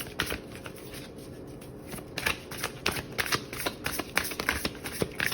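Tarot cards are shuffled and drawn by hand, a close, crisp run of riffling and flicking sounds that grows busier toward the end, with no talking.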